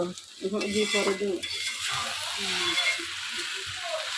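Noodles and zarda semai cooking in a pan produce a soft sizzle with stirring and scraping, and faint voices murmur in the background.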